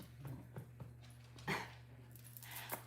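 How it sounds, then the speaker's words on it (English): A pet dog whimpers indoors, giving a few faint, short yips and whines spaced over a few seconds against a quiet steady hum. "You can hear my dog."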